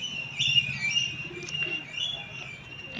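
A female pigeon kept on a rooftop coos softly and low, with a faint flutter of wings, while a thin high whistle-like tone runs steadily in the background.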